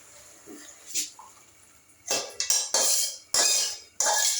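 Hilsa fish pieces being transferred into a pan of masala, with a few soft clinks first, then loud bursts of sizzling and clattering utensil sounds in several quick rushes, close by.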